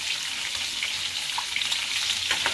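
Stuffed green chillies fry in oil in a pan, giving a continuous close sizzle with small crackles and pops and no voices.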